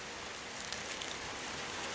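Steady rain falls in a soft, even hiss, with scattered faint patters and no voices.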